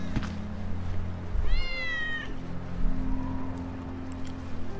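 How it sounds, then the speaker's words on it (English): Wedge's cat in Final Fantasy VII Remake gives one clear, drawn-out meow over a low, steady ambient hum, moderately close, with no talking. "That's Wedge's cat."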